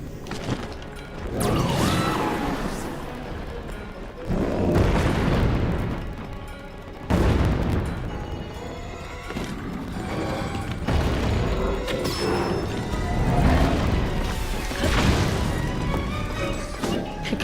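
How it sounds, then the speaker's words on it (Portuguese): Booming explosions and crashing blasts in Zelda: Breath of the Wild come in loud overlapping bursts with rumbling tails, a dense game soundscape throughout. "O que é que anda às explosões?"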